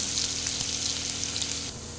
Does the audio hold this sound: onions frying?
yes